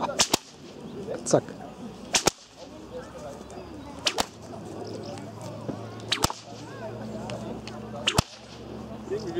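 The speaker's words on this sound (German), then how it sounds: "Eine Paracord-Peitsche" A paracord whip cracks sharply about seven times at irregular intervals at a medieval market in Bräunlingen, Germany, loud and close, with a few quiet voices in the background.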